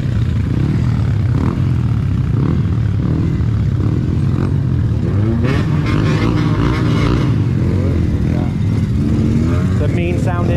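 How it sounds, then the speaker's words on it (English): Loud, mean-sounding motorcycle engine rumbling continuously on a city street in Kuching, Malaysia, with revving swells through the middle amid traffic noise and street ambience. "The mean sounding engine."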